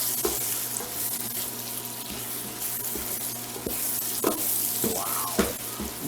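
Garlic shrimp sizzling loudly in a pan, a continuous close hiss punctuated by several sharp scrapes and clanks of a utensil turning the food, with no voices.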